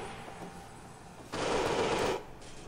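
A burst of automatic gunfire in America's Army sounds as a dense, steady rattle of shots lasting under a second, louder than the muffled game ambience around it, with no voices.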